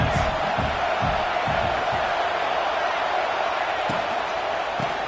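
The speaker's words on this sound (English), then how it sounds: "This crowd trying to make life miserable for this offense." A steady roar from a football stadium crowd at a Michigan versus Washington game fills the background, with a few thumps and shouts rising from it while a commentator talks over the top.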